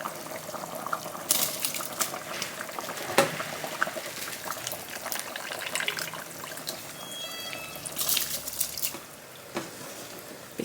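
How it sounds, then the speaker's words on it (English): A pot of lamb pepper soup simmers and bubbles on the stove, with soft, irregular liquid burbles and occasional louder pops and splashes nearby. "So allow this to keep bubbling away."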